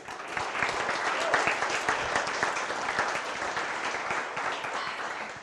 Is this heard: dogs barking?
no